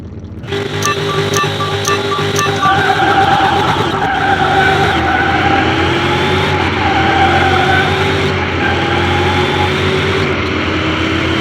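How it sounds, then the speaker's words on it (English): Drag race car in a Car Mechanic Simulator 2021 race against a Reptilia drag car, its loud engine roaring continuously while tyres skid and squeal throughout, with rising revving tones over a steady high-level din and no talk. "we're racing another Reptilia drag"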